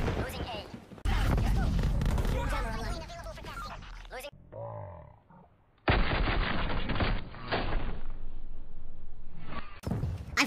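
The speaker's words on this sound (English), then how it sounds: "I'm firing directly into him, into his face" Call of Duty gameplay with rapid bursts of gunfire, loud and close, broken by a brief quieter gap, while someone talks over the game's noise.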